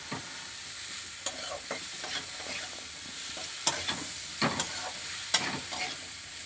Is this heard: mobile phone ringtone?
no